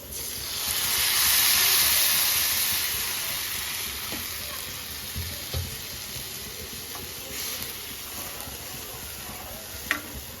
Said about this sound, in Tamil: இப்போ இந்த ரசத்தை ஊற்றிக்கலாம்.